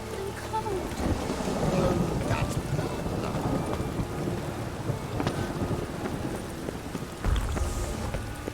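Rain in The Witcher 3 video game: a steady, dense hiss of rainfall with low rumbling weather underneath and a few brief louder knocks, continuous throughout.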